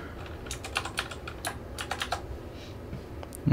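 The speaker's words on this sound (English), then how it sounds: "So we're going to put in our password here" Password typed on a computer keyboard while setting up a Synology NAS migration: a run of quick, light key clicks in an irregular rhythm, close by, with a brief pause near the end and no talking.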